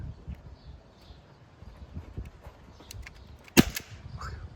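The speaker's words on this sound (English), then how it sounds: "I loaded up 7 paintballs, so let's take a few rounds." A Tippmann Menace paintball pistol fires once outdoors, a single sharp snapping pop that stands out against quiet background noise.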